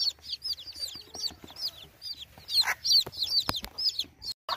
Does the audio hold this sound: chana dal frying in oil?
no